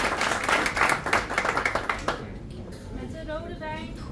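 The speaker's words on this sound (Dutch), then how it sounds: "Mag ik een applaus voor Rinske van Berken?" Audience at a Rotterdam poetry club evening applauds a poet, brisk clapping that stops after about two seconds, followed by quieter room sound and a voice beginning to speak.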